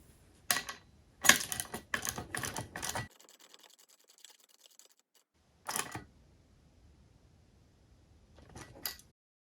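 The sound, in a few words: 3/8 ratchet with 17mm socket tightening bolts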